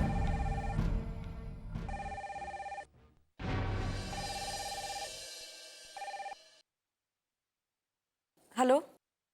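A telephone rings indoors in a Marathi TV serial scene, its bursts repeating in a regular pattern with short gaps, followed near the end by a brief faint voice.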